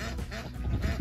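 Old Polish wild-partridge-coloured ducks quacking close by in a quick burst of repeated nasal calls that overlap one another.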